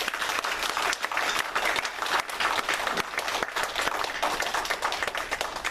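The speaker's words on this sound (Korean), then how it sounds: "다 같이 우리 격려의 박수 하도록 하겠습니다" Congregation applause in a church service honoring a retiring elder, a dense, even round of clapping from many hands sustained throughout at moderate loudness.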